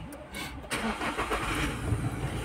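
A car engine cranks and catches via push-button keyless start, with start-stop fitted, then settles into a steady close idle; a faint voice is heard early.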